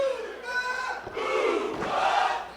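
A live wrestling crowd at a Wrestling Open event roars and cheers, loud and sustained, with massed voices rising and swelling throughout.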